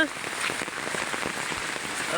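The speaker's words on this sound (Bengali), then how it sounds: "এইভাবে বৃষ্টি হয়ে গেলে" Steady rain patters densely on a surface, a continuous hiss of drops close by with no breaks.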